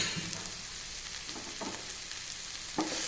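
Fried cauliflower sizzles softly in a spiced pan, a faint, even hiss with a few light scrapes from stirring, the last one a little louder.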